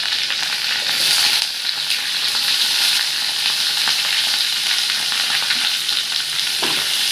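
Onions stir-fried in a pan, a steady close hiss of sizzling oil with soft scraping stirs running through it, no voices.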